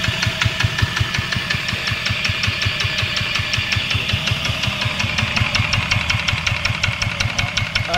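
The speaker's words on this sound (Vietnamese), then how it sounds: "Cái dòng máy này chạy rất là đậm chứ." A Yanmar SS60 diesel engine runs steadily close by, its loud, rapid knocking beat pulsing evenly throughout with no voices over it.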